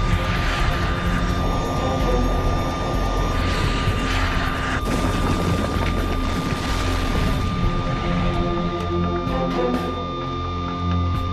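A TAM Fokker 100 airliner takes off from Congonhas airport in São Paulo, its engines a loud, sustained roar that shifts in tone and stays close throughout.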